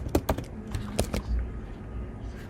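A few quick, close clicks on a computer keyboard, like a short key combination being pressed, followed by quiet room tone.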